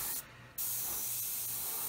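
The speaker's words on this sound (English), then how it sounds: "like spray like this" An airbrush sprays paint over an insignia mask on a scale model. The close, steady hiss breaks off for a moment and then resumes.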